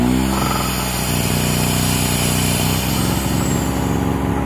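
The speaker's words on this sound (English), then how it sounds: "That's just what carbureted engines sound like." A small, inexpensive carbureted generator engine runs steadily nearby with a slightly uneven, buzzing drone, its pitch shifting a little early on.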